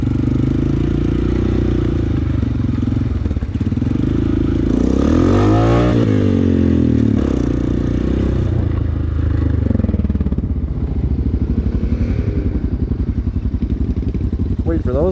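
A Honda motorcycle engine runs close by, a steady low rumble with a brief rev swell midway, while people talk over it throughout.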